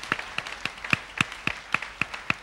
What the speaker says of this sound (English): Can we just clap our hands for this group one more time?